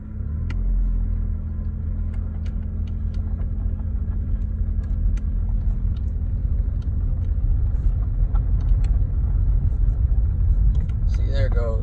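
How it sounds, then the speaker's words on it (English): An mk4 Jetta with a faulty transmission slipping in drive: a loud, close engine rumble that holds steady and climbs slightly without settling, with a voice briefly over the engine noise. "So we're gonna throw it in drive. It's gonna fucking slip like a bitch."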